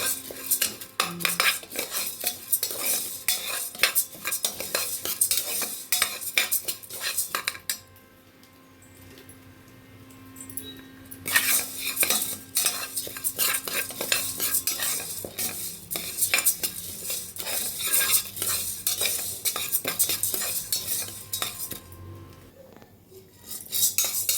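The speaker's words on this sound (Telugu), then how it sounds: "పప్పు ముందు ఆయిల్ లేకన్నా వేపాలండి" Dry lentils (dal) roast in a pan without oil while a metal spoon stirs and scrapes them in repeated bursts, with a soft sizzle and a brief quieter pause midway. No one talks.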